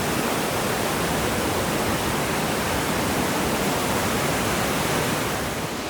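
A dense, unbroken roar of rushing water fills the whole clip at steady loudness, broad and hissing like a large waterfall close by, at the world's widest waterfall in the 4000 Islands, Laos.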